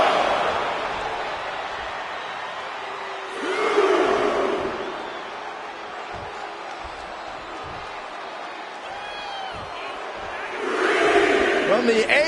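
Wrestling arena crowd in the video game WWE 2K24 cheering and roaring, with two louder swells of cheers rising near the start and again at the end over a steady crowd bed.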